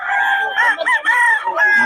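A rooster crows loudly and close by, its call rising and wavering, with hens clucking around it.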